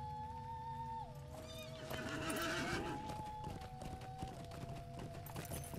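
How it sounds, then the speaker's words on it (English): In the Lord of the Rings Online video game, a horse gives a long, wavering neigh over a steady musical tone and ambient background, with faint hoofbeats and rustling mixed in. "Get on my horse."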